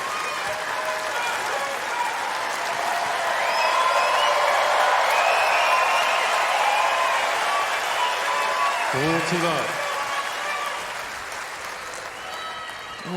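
A New York crowd applauding at a US Open tennis match, Mirra Andreeva vs. Ashlyn Krueger, a dense sustained roar of clapping that swells midway then eases, with a commentator speaking over it.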